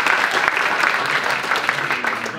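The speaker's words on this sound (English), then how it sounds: "So give them a big round of applause." Audience applause for a student team at a university challenge event on rethinking protein, steady dense clapping filling the whole stretch, fairly loud and continuous.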